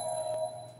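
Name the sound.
Crowfall video game click sound resembling a phone ringing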